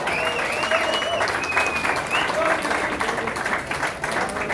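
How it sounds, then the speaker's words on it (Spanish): Loud, sustained audience applause for the musicians at a Chido Fest 2024 press conference, dense clapping filling the whole stretch with crowd noise and faint voices mixed in. "¡Aplausos a mis carnales!"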